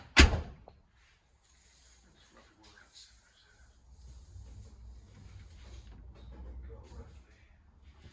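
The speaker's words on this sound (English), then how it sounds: "Shut the door a minute." A car door shuts with a single sharp thud at the start, then low rustling and faint background noise follow while people talk quietly.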